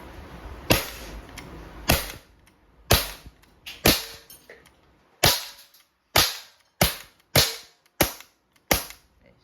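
An Umarex Glock 17 Gen 3 airgun fires about ten sharp, loud, dry shots in an irregular sequence, each a crisp snap with a quick decay and short pauses between.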